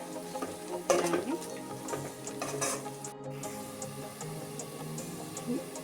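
Cumin, mustard, tomato and onion pastes fry in a pan for an Andhra-style fish curry, producing a steady, close sizzle with scraping stirring strokes throughout.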